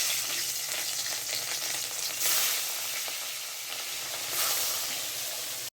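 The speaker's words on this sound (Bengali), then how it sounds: "প্রথমে উনুনটা ধরিয়ে মাছটা ভাজা বসিয়ে দিয়ে দিকে চলে আসলাম।" Fish fries on a clay stove, giving a loud, steady sizzle with crackling spits and a couple of brief surges, heard alone up close.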